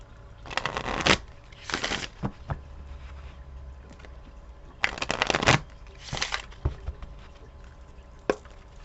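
Several quick riffling bursts of a card deck being shuffled, irregularly spaced with short pauses between, close and crisp.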